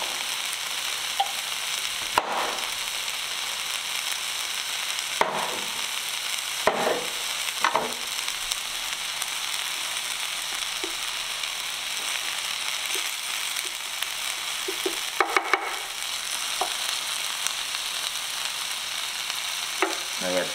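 Peppers and garlic sauté in a pan for a rotisserie chicken cacciatore, a steady close sizzle with occasional louder scrapes of stirring, no talking.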